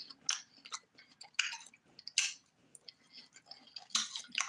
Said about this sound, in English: And we eating watermelon